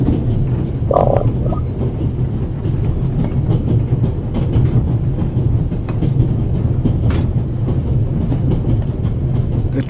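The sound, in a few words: train travelling on rails, from a video game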